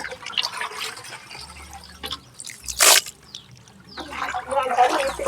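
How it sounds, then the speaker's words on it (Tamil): Meat for a large village feast is rinsed and washed in water, heard as splashing, dripping and pouring in a busy outdoor setting, with voices talking throughout. "கறி தான் வந்து இப்போ அலாசிட்டு இருக்காங்க கழுவிட்டு இருக்காங்க"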